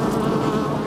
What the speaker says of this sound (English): And the bees are back and as busy as ever